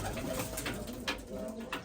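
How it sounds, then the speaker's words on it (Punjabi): Pigeons coo softly amid steady background noise, low throaty calls repeating over a couple of seconds, fairly faint. "ਇਹ ਕਬੂਤਰ ਸਾਰ ਹੁੰਦੇ ਪਿਆ ਇਹਨਾਂ ਚੋਂ ਵੀ ਜਿਹੜਾ ਜਿਹੜਾ ਸਾਰ ਹੋਈ ਗਿਆ ਉਹ ਉੱਤੇ ਲਈ ਜਾਣਾ ਆ ਆਪਾਂ"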